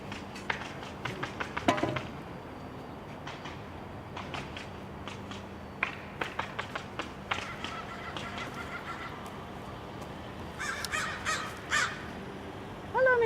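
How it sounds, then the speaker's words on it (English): Crows cawing outdoors beside a fenced swale on farmland, repeated harsh calls in irregular bursts, some near and loud, others farther off, over a steady background hum with no talk. "Hello, Mr. Crow."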